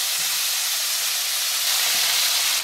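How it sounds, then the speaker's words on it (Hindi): Chicken bones frying in a pan give off a steady, loud, broad hissing sizzle that holds unbroken from start to finish, close and with no talk over it. "इसको 5 से 7 मिनट तक हम फ्राई करेंगे और बीच बीच में चलाते रहेंगे।"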